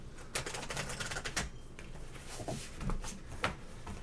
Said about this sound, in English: New deck shuffling.